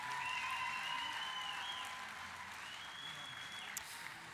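An audience applauds an award winner at a football celebration ceremony, a soft, distant wash of clapping that holds steady, with a faint tonal whine running beneath it.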